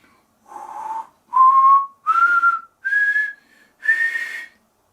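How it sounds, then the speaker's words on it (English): A single person whistles five separate sustained notes, each starting higher than the one before, climbing from a low tone to a clearly higher pitch with short breaths between, close and clear with no other sound. "if you whistle a low note and then get higher"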